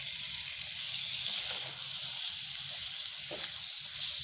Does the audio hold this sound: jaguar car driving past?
no